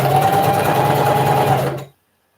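A home sewing machine runs a long stitch on pajama fabric, a loud, close, rapid mechanical whirr that holds steady for under two seconds and then stops dead into silence.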